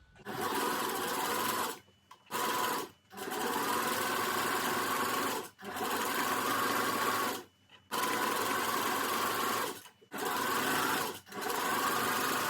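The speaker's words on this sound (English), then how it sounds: "Use a zigzag stitches to sew from here to here." Sewing machine zigzag stitching a fabric headband, close and steady mechanical whirring in several bursts of one to three seconds separated by brief pauses.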